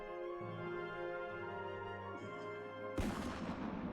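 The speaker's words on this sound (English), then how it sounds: "A gunshot. It was nearby, too." A single sharp gunshot bursts out after several seconds of sustained musical tones in the courtroom adventure game Aviary Attorney, a loud crack followed by a brief decaying tail.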